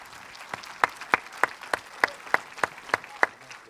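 Audience clapping in unison at a festival opening ceremony, around ten crisp, regularly timed claps rising above a low background of crowd noise.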